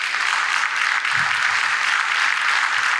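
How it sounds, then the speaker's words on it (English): Steady applause from an audience at a vegetarian congress, a dense wash of many hands clapping evenly for the whole stretch with no pause. "A round of applause."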